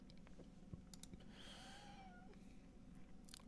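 A cat sitting on someone's feet gives one drawn-out meow, faint and close, while sparse computer keyboard clicks tap around it in a quiet room.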